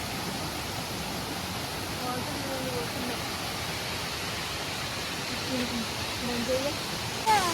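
Small waterfalls rush in a constant, broadband roar of falling water close by, steady for the whole stretch, with a voice speaking faintly underneath.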